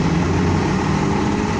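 A 2010 Nova LFS transit bus of Strathcona County idles steadily nearby, a low, even diesel rumble with a constant hum and no change in pace.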